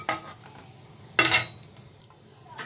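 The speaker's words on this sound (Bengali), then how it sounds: "এখন 5 ফোড়নটাকে একটু 1-2 সেকেন্ডের জন্য একটু ভেজে নেব।" Panch phoron spices and a dried red chili fry in hot oil, giving a soft crackling sizzle with two sharp scraping stirs close by.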